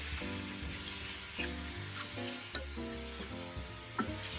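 Shrimp sizzle and crackle in a hot pan of pasta as a utensil stirs them, a continuous close frying hiss broken by scraping strokes and a couple of sharp clinks.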